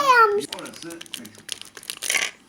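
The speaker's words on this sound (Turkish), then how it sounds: "Şimdi poşetini açtık." A plastic bag around a new candy machine crinkles and rustles in short bursts, close by and fairly loud, with a voice chattering over it.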